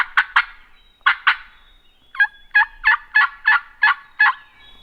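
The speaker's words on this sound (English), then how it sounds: "Bird just gobbled over there." A wild turkey gobbles again and again, nine sharp rattling bursts in quick clusters at moderate distance, clear against quiet woods with no talking.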